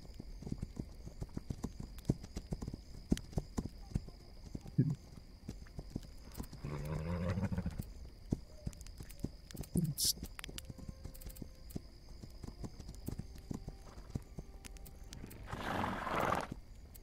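Horses in a video game trot with clip-clop hooves through most of the stretch, joined by a whinny and short bursts of louder noise, with scattered game sounds around them.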